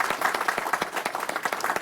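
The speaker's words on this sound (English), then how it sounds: "if you'll just join with me in giving a round of applause" Brief applause from an audience at a telecom connectivity forum, with distinct individual claps standing out in a quick, uneven rhythm over a thinner crowd patter.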